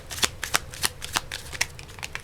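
Tarot cards being shuffled by hand, a rapid series of crisp riffling snaps and slaps, close and clear with no talking.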